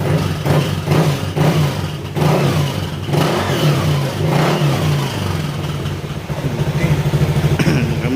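A car engine with a coolant overflow fault revs repeatedly, rising and falling in pitch with a steady low rumble underneath, loud and close.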